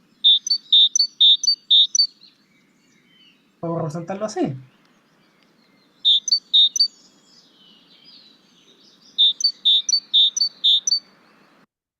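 Recorded wild birdsong, bright high chirps in quick clusters of four to six notes, repeated in three separate phrases with quiet gaps between, and someone briefly speaking Spanish in the middle.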